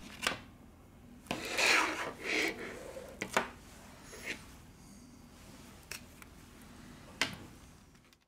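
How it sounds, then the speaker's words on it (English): A plastic card scrapes and rubs through adhesive under the back cover of a Samsung S7 Edge phone, giving quiet, irregular rasping strokes and soft ticks close to the microphone. "We use a plastic card to cut the adhesive."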